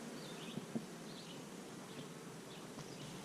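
Honeybees buzzing softly around an open hive during a summer inspection, a faint continuous insect drone with a few brief closer passes and light clicks in the background.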